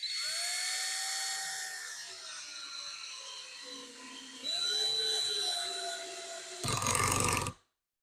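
An older cordless drill driving a screw whirs steadily for several seconds, pitch sagging under load, then a louder, harsher burst of motor noise before it cuts off.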